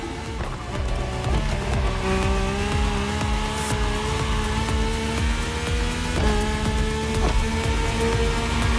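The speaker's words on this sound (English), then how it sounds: "The rally car has already changed its course to reach the dirt." A rally car races in The Crew Motorfest, its engine droning loud and steady with rising gear pulls and a brief shift partway through, while a voice talks faintly underneath.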